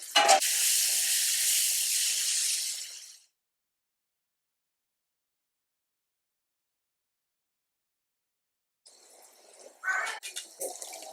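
A tomato mixture with salt, chili and turmeric sizzles loudly in a hot pan for about three seconds, then goes silent, followed by softer stirring and clatter near the end.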